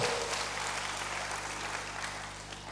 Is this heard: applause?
yes